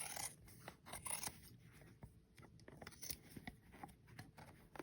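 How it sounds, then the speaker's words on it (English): Scissors snip loose yarn ends sticking up from a knitted candy cane sweater, a run of close, quiet, irregular cuts and rustles with no talk. "I'm just going to go back and cut anything that's sticking up a little extra"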